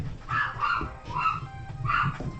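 Dogs at home barking in a few sharp bursts, each a short cluster of barks and yips spaced about half a second apart, moderately close and indoors, with no talk over them.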